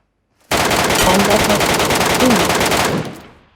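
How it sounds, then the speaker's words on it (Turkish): A loud, close, continuous burst of automatic gunfire lasting about two and a half seconds in PUBG Mobile's Metro Royale mode, starting abruptly after silence and tailing off quickly. "ne biçim sıkıyor bana görmeden ya"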